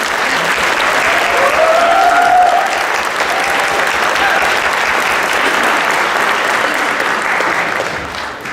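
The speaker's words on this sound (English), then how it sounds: "we would like to applaud all of them." A concert audience applauds piano students at a music club recital, loud dense clapping from a large crowd that holds steady throughout and tapers slightly at the end.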